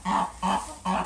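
Purebred hens and a rooster in a breeding pen, four hens with one cock, giving three evenly spaced clucking calls at close range with no talk.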